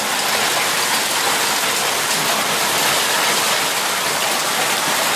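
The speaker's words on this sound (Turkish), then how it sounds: "Buz yağıyor buz." Hail and heavy rain falling in Akyazı, Sakarya, making a dense, steady, loud hiss that runs without a break for the whole stretch, with no voices over it.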